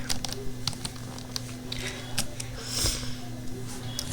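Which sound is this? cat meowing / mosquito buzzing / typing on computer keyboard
typing on computer keyboard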